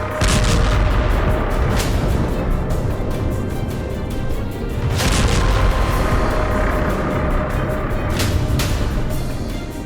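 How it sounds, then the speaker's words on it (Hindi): Missile strike near a pedestrian bridge in Kyiv, heard as loud, rumbling blasts with sharp bursts and a heavy, continuous roar, recorded from a distance in an open city setting. "सुबह सुबह पुल के नजदीक भयानक विस्फोट हुआ।"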